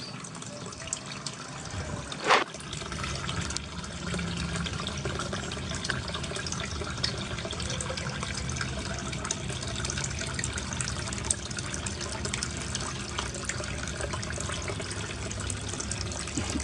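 Steady splashing of water falling from a small waterfall into a koi pond treated with alum, continuous broadband rush throughout with one brief louder splash near the start, close and without talk.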